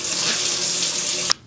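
Tap water runs into a container for mixing film developer, a strong steady gushing hiss that cuts off abruptly near the end, leaving quiet.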